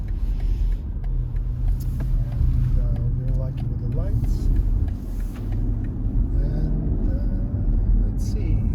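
A 2021 BMW X5 45e plug-in hybrid in sport mode drives with a steady low engine and road rumble, rising slightly as it accelerates, while a person talks over it.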